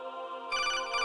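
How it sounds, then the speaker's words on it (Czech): Electronic telephone ring in the video game Metal Gear Solid 2, a steady tonal ring that jumps louder and brighter halfway through, pulsing in quick repeated bursts, no voices. "Ten telefon mu zvoní"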